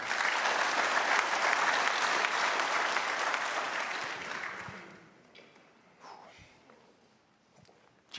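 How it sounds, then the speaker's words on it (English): Crowd at an annual conference awards session giving a loud round of applause that swells, holds for several seconds, then fades out to a few scattered claps and room noise. "One more round of applause for all of them, please."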